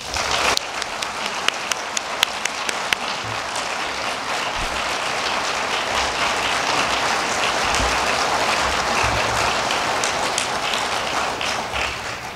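Audience applause welcoming Earl Lewis to the podium at the 2019 OAH Annual Meeting presidential address, a sustained wash of many hands clapping, a few sharp claps at first, then steady and fairly loud for the whole span.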